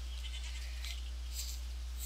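Goats in the Minecraft video game bleat through a short stretch of steady game noise, the calls blurred together and moderately loud with no talking.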